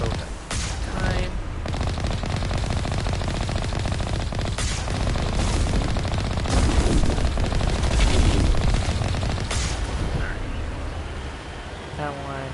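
Gunfire from the video game Mass Effect Legendary Edition comes as a dense, loud, continuous fusillade with repeated sharp shots and rumbling booms, and a voice talks over it.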